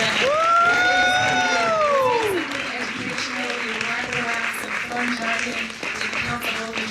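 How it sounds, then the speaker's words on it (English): A studio or stage audience at a talk show claps and cheers, with whoops and a bright shout rising over the applause at first, then settling into steady, moderately loud clapping with some voices mixed in. "Can we give a round of applause for Miss Britt?"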